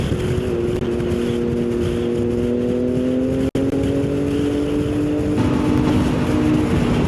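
A loud, throaty Ducati motorcycle engine drones and rises in pitch as it revs and accelerates, against a rumble of outdoor city traffic noise in İzmir, with a brief dropout midway.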